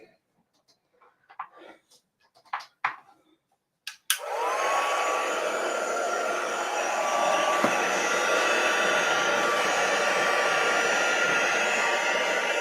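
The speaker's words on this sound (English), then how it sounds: "So let's just grab our heat gun." Heat gun starting up with a click and then blowing hot air in a continuous loud whooshing roar with a faint whine, close by and steady, following a few brief handling clatters.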